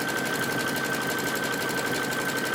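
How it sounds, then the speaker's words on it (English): A sewing machine stitching a zigzag over fabric strips runs at a steady fast pace, a close, even mechanical whir with a rapid ticking rhythm and a faint high whine, no talking. "So I'm just going to start by running the zigzag stitch over the edge of each of the strips to hold it down."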